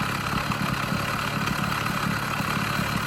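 An old orange motorcycle idles steadily after a short warm-up, having sat unused for three to four months; a continuous low, even engine rumble runs throughout with no other sounds.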